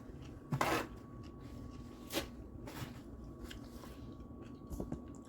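Close, quiet crunchy bites and chewing of egg salad with celery, a few sharp crisp crunches spaced apart against soft background hum, with no talking.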